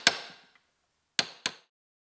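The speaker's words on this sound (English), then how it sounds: "I like to use a punch to kind of countersink the nails." Sharp percussive hammer taps on a nail punch, countersinking nails into a wooden speaker shelf: one strike, a pause, then two quick strikes close together, loud and near with short ringing decay.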